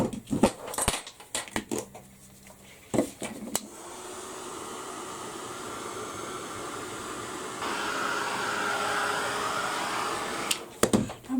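A handheld heat dryer blows steadily on fresh paint on a steampunk craft piece, a close, even whooshing hiss that steps up louder partway through and lasts several seconds, framed by handling noises and a dog whimpering.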